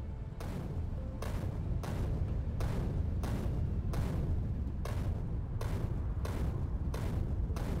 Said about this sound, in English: I double grenaded, whoops.